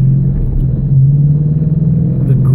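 A Ford Mustang drives on new tires, giving a steady, close, low engine and road rumble that holds even throughout, with no talking.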